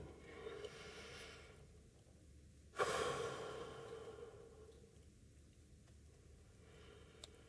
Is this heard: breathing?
yes